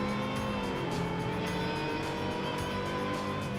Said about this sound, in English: So here's me and my Lotus Elise chasing this Z4.